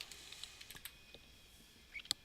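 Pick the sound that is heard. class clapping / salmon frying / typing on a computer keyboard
typing on a computer keyboard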